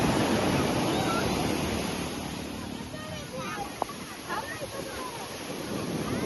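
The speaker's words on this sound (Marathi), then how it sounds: "भरती आली आताची बघू शकता एकदम लाटा मारतायत" Sea waves surge against the shore at high tide, a steady broadband roar mixed with gusting wind on the microphone, with faint voices in the background.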